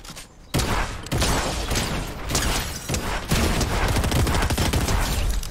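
Rapid bursts of video game gunfire fill the clip, a dense barrage of loud shots and booms with no pauses, over a steady noisy background.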